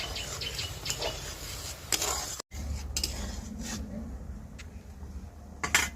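A utensil stirs tomato sauce in a pan, giving quiet, scattered clinks and scrapes against the metal, with a brief silent gap partway through and a few sharper taps near the end.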